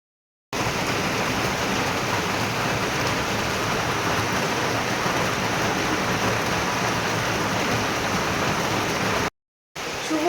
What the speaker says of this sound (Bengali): এখন তো প্রচণ্ড বৃষ্টি হচ্ছে